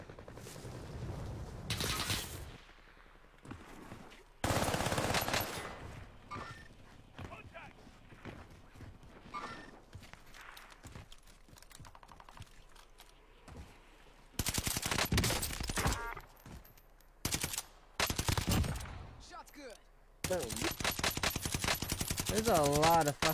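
Rapid bursts of automatic gunfire from a shooter video game, with loud repeated volleys separated by quieter stretches under a player talking.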